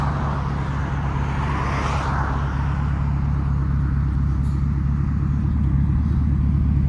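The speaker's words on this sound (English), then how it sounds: "Beautiful idle on it." A Ford F250 truck with a 6.2L V8 idles through its exhaust, giving a steady, close, low rumble that holds even throughout, with no voices.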